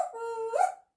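African grey parrot imitating a dog, producing a single tonal howl-like whine that rises at the end, close and clear, lasting under a second.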